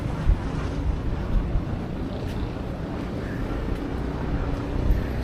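Strong wind buffets the microphone at a windmill site in Rizal, a continuous loud roaring rumble with gusty bursts and no talk.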